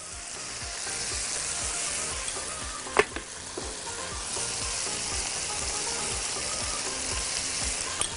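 Onion, garlic and spices sauté for chicken couscous, giving a steady close sizzle and frying hiss with a few sharp clinks of a stirring utensil, no voices.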